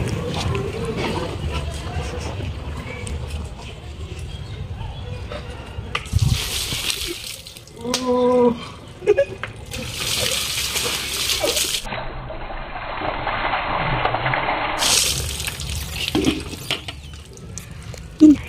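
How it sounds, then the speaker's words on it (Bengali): Cold water is splashed and poured over a person in a winter prank, with several loud bursts of splashing and running water separated by stretches of talking and reactions close by. "ওকে আমি আজকে জল ঢেলে দেবো ওর গায়ে"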